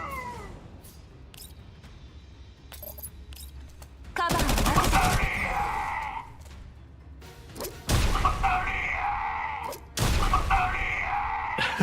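A character shooting in the Girls' Frontline 2: Exilium video game, with loud bursts of gunfire arriving in three separate volleys amid quieter stretches that carry what sounds like cat-like meowing.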